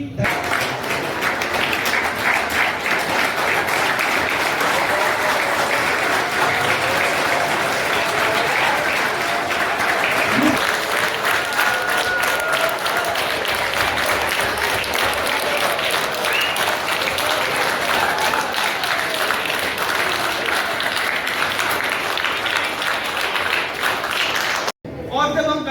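Sustained audience applause at the Niramaya health awareness programme at Sadul Sports School, a large crowd clapping steadily and evenly for about 25 seconds before it cuts off abruptly near the end.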